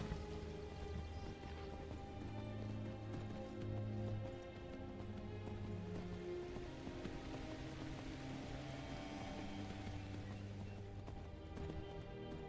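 Horse hooves gallop at a steady clip-clop rhythm in the fantasy game Skyrim, continuous and fairly loud over layered game music for the whole stretch.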